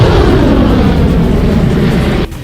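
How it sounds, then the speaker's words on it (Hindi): Fighter jets roaring overhead during a military exercise, a loud, continuous broadband roar with steady low rumble that drops off abruptly near the end, no voices over it. "वहां का आसमान लड़ाकू विमानों की गरज से गूंज उठा।"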